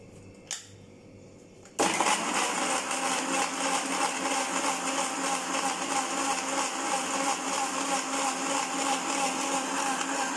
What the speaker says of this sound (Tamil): இதை வந்து மிக்சியில் போட்டுருங்க.